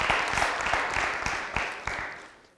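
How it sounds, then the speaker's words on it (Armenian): Applause from a studio audience, thick and continuous at first and then fading as the clapping dies away. "Դուք բոլոր ծափահարում եք հարգելի հանդիսատես"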